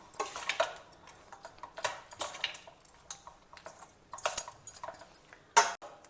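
Cooked rice for lemon rice being gently mixed in a steel pot, with a series of light scraping and clinking utensil strokes in irregular bursts, close and fairly quiet with no talking.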